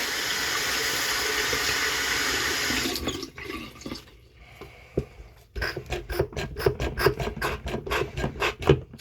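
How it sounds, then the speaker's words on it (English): Tap water runs strongly into a sink while a washcloth is rinsed. The flow cuts off after a few seconds and is followed by quieter rhythmic scrubbing and wringing sounds close by. "Now I'm going to wash the rag."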